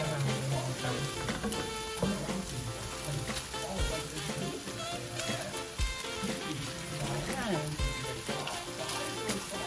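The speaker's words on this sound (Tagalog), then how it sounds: "halu-haluin lang natin para hindi siya masusunog" Homemade sweet longganisa sausage fries in a pan and is stirred now and then, a continuous close sizzle with a few scraping thumps, while background music plays underneath.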